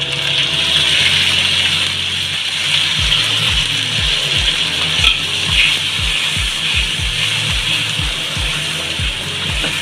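A ground paste of onion, tomato and dried red chillies is poured into hot oil and sizzles loudly and steadily up close, with a rhythmic low ticking running underneath.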